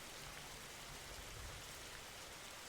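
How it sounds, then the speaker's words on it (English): Heavy, cold rain falls as a dense, steady hiss of countless drops, loud and unbroken, with no other sounds. "I'll wait right here, in the cruel and cold heavy rain."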